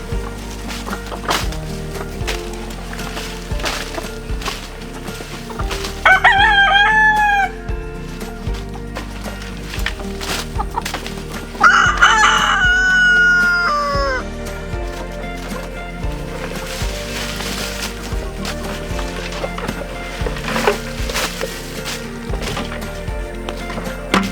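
Chickens cluck and squawk in two brief bursts over a background of repetitive knocking and rustling noises.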